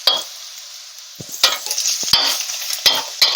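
Vegetables with a pre-made masala sauté in a pan for a horsegram soup, giving a steady sizzle broken by several sharp scraping stirs and clinks of a spoon.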